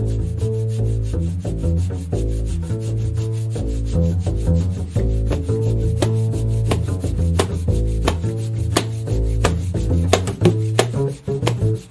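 Continuous rhythmic friction rubbing and scraping on a wooden cajon drum surface, steady and close, with low booming tones and sharp taps woven through.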